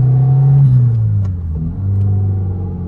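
Engine of a 1997 Fiat Cinquecento Sporting heard from inside while driving, a loud, close droning hum whose pitch dips and climbs as the revs change, steady with no talk over it.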